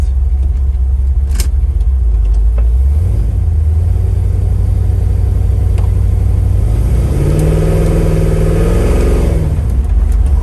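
A 1964 Chevrolet Chevelle's engine rumbles loud and close from inside the car, the pitch climbing as it accelerates hard, briefly dropping, then surging again before easing off near the end.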